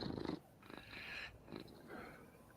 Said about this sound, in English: Is that you purring or them?